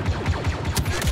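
Rapid automatic blaster-style gunfire in a Star Wars video game, a fast regular burst of about six loud close shots with no talking.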